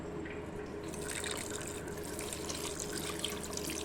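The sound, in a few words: water being poured into goat head curry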